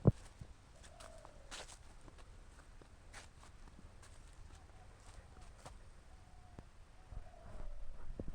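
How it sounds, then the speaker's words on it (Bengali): A dove coos faintly in the distance in a sunny Gazipur village. The few soft, low coos come and go beneath nearby footsteps and quiet outdoor ambience. "ঘুঘু ডাকছে, কান পাতলেই শোনা যায় ঘুঘু।"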